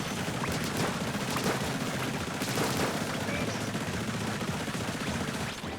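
Rapid shots fired in the Splatoon 3 video game, a dense, fast rattle of repeated bursts that continues for several seconds under busy game sound, without speech.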